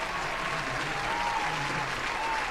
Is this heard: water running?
no